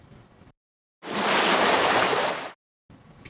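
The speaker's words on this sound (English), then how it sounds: "So we hear it's just water." A recorded burst of running water plays for about a second and a half as a steady, broadband rushing wash. It starts and stops abruptly, with quiet room noise on either side.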